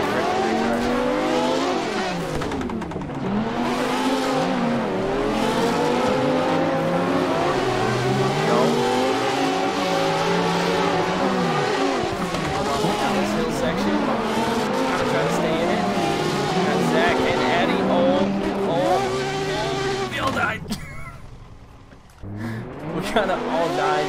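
A drift car on 285 tires during tandem practice at a drift event, engine revving hard and rising and falling in pitch over about twenty seconds, with tire squeal and skidding, loud and close, then fading at the end.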